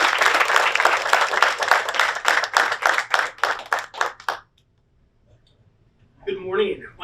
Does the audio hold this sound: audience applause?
yes